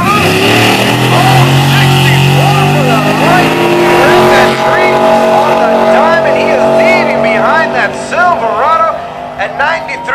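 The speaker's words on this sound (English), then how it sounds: "Silverado at 93 miles an hour, just in the 1/8 of a mile right now." Chevy Silverado pickup racing down a drag strip, its engine roaring loud and steady as it revs up through rising pitch sweeps, with an announcer talking over it throughout.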